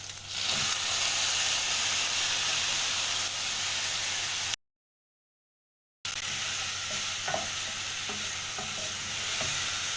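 Tomatoes being stirred into a pot of beef stew with peanut butter, a steady close sizzle and hiss throughout, with a brief silent gap midway and small stirring scrapes.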